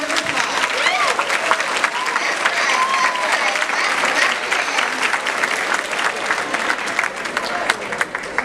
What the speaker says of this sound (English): go ahead and give yourselves a nice round of applause